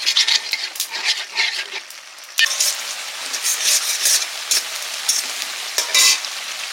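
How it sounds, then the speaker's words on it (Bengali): Malabar spinach (pui shak) curry with prawns frying and bubbling in a pan, a steady hiss with scraping stirs and clinks of a utensil against the pan, close and moderately loud. "পুঁই শাকটা এখনো রান্না হচ্ছে।"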